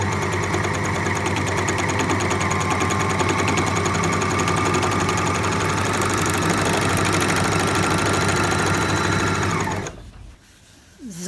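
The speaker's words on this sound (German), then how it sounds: "Ich lege mir also den Stoff ganz wie immer an und nähe einfach die Nahtzugabe ab." An overlock serger trims and sews off the seam allowance on fabric, a fast steady mechanical whirring and needle clatter running loud and continuous before stopping abruptly near the end.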